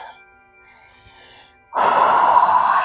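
Deep breaths during a yoga session, with two soft, airy breaths near the start followed by a loud, close, sustained breathy exhale that fills the last second.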